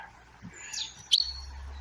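A small bird gives a few sharp chirps near a bird feeder at a picnic site in Yorkshire, close and clear against a quiet outdoor background.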